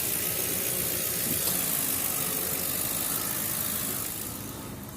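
Crown Victoria engine idling steadily, a continuous mid-pitched rumble close by, fading slightly near the end.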